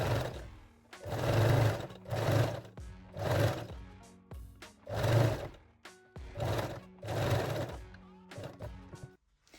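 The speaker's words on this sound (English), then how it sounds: "So now set your machine to zigzag stitch and we will bind all curved edges along the bottom and the straight edge at the top using the fold over elastic." A sewing machine runs zigzag stitching to bind fold over elastic onto the curved and straight edges of a lingerie garter belt, loud close bursts of whirring repeating in a steady rhythm with short pauses between runs.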